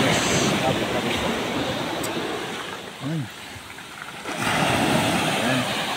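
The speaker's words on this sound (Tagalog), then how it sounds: "Diyan sumasalpak yung alon. Ganito pag taghabagat, malaki yung dagat." Large sea waves surge and crash along a provincial shore during the southwest monsoon, a steady broadband roar with louder swells near the start and end, overlaid by wind rumble on the microphone.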